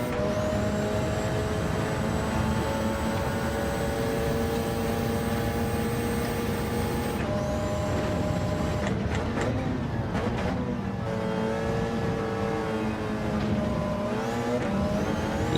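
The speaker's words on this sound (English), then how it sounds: "Listen to that AMG, you can hear it. Beautiful sounding thing." A Mercedes-AMG race car engine in Gran Turismo 7 during a Le Mans endurance race, a loud continuous roar with rising and falling revs, gear changes and tire noise throughout.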